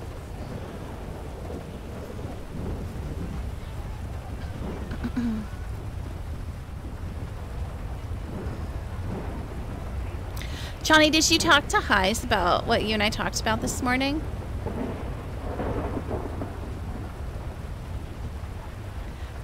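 A steady rumble of rain and thunder from a thunderstorm in a roleplay game fills the background, with a voice talking over it throughout and a louder burst near the middle.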